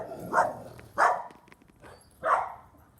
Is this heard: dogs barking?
yes